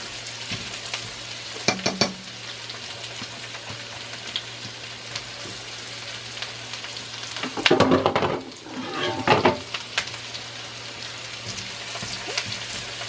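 Onion, garlic and seasoned shredded beef frying in a pan for tacos, a low steady sizzle broken by louder bursts of stirring and scraping around the middle, no voices.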